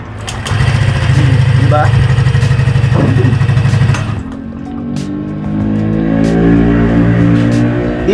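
A Yamaha Mio Gear S scooter engine starts and settles into a low, quiet idle with a steady hum, close by, while someone talks over it.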